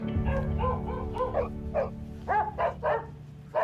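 An older dog barks in a Riverdale TV episode, a run of short, mid-pitched barks and yips that rises toward the end over a steady background hum.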